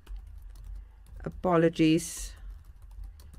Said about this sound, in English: So all they need to do is start typing.